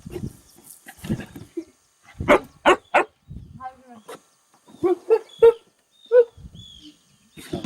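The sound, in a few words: dog barking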